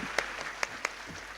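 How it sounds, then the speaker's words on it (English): Faint, thin applause from an audience at a school programme event, a few distinct claps standing out over a soft steady patter, with no talking. "give a big round of applause"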